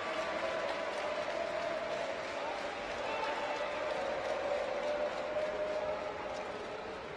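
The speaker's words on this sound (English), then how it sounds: "the crowd are still staying and giving Turkey a really brave round of applause" Sustained applause from a volleyball arena crowd cheering Turkey's team after a match, a steady dense clapping wash with a faint tonal hum running underneath throughout.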